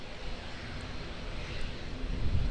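A Qantas Boeing 737-800 airliner on approach to land on runway 23 left at Auckland Airport, buffeted by wind, its broad engine roar steady and swelling slightly louder toward the end.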